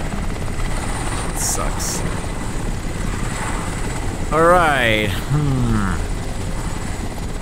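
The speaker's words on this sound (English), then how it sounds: "I don't really know what to do with this helicopter." A helicopter in the video game Crysis drones steadily with a constant rotor roar throughout, while someone talks briefly over it.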